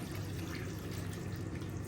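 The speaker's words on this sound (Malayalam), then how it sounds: "ഇനി ഈ കഷ്ണങ്ങൾ വേവാൻ ആവശ്യമായിട്ടുള്ള വെള്ളം ഒഴിച്ചു കൊടുക്കാം" Water pouring into a pot of cut vegetables for Kerala sadya koottukari with chana dal, a steady continuous splashing stream, close and fairly soft, with no talk.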